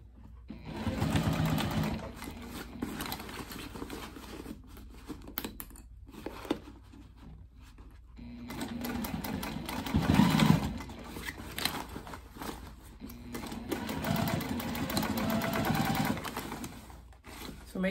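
A sewing machine stitches a side seam of a bag in several close bursts, pausing briefly between runs. Its rapid mechanical chatter comes and goes over about eighteen seconds.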